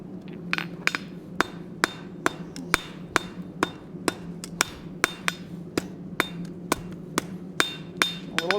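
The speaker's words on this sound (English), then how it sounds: "let's go to the anvil real quick" A hammer rings against metal on a blacksmith's anvil, about twenty sharp, bright strikes at a steady, even pace, close and clear with nothing else heard.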